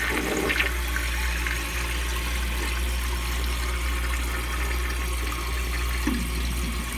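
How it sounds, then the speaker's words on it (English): A 1983 American Standard Cadet toilet flushes with a steady, full rush of water that continues evenly and close by throughout, with no voices. "It seems to flush okay, but I feel like it could do better."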